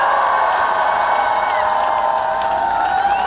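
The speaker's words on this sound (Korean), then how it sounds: "이재명 대통령 후보의 힘찬 연설을 뜨거운 박수와 환호로 맞이해 주십시오" Crowd at an outdoor presidential campaign rally in Changwon cheering and applauding, a steady loud roar of voices and clapping filling the whole stretch without pause.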